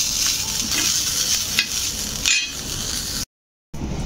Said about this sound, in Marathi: बघा मिरच्या किती सुंदर अशा चटकलेत.